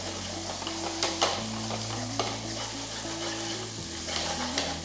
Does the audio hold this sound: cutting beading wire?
no